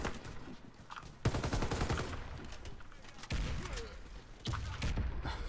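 Automatic fire from an EXAR PDW in the shooter game Warface, with dense, sustained bursts that restart abruptly several times, loud and close.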